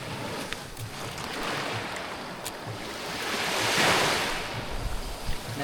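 Sea waves wash onto a beach, a continuous surf rush that swells into a louder breaking surge midway, with wind gusting across the microphone.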